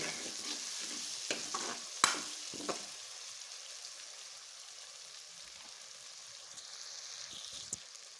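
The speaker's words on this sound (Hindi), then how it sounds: "और इसके अंदर मिक्स करेंगे टमाटरों के गलने तक। हम इसको पकाएंगे अच्छे तरीके से।" Tomatoes are stirred and cooked in a pan for aloo matar sabzi: a faint, low sizzle with a few sharp spoon clicks early on that settles into a quiet, steady hiss with occasional taps.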